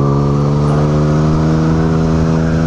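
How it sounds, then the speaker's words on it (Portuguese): A steady, throaty four-cylinder motorcycle engine idles and revs close by, its deep hum constant throughout with no voices. "Barulho de 4 cilindros mesmo"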